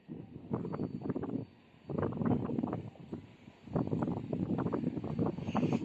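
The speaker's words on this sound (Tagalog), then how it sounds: "Medyo umikot lang siya gawa ng sobrang lakas ng hangin" Strong wind buffets the microphone in three heavy, rumbling gusts separated by brief lulls, loud and close, with no voices.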